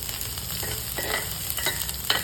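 Onions sizzling and frying in oil with mustard seeds, cumin and green chillies in a pan, being stirred while they cook, a steady crackle with faint scraping and no talk.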